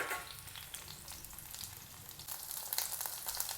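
Brinjal slices fry in hot oil with mustard seeds, giving a soft, even sizzle that swells slightly toward the end, with faint stirring sounds and no talk.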